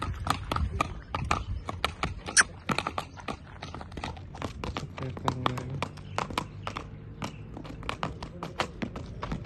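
A horse for sale, a black stallion, walks on hard ground with steady, close, loud clip-clopping hooves throughout, with faint voices in the background.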